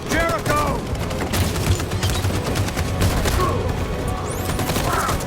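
Battle gunfire in the video game Detroit: Become Human, dense overlapping bursts of rapid shots and impacts crackling continuously, with shouting voices mixed in.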